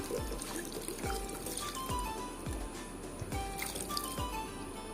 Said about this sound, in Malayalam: വെള്ളം ഒഴിച്ച് വെക്കുക